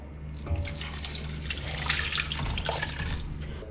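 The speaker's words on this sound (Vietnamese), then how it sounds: "Mình đổ vào đây là 2 lít nước nha." Two liters of water pour into a cooking pot, a close, steady splashing gush with a low hum beneath, lasting a few seconds.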